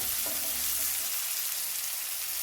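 Onions fry in a pan with salt added, filling the clip with a steady, close sizzle and crackle. No one speaks.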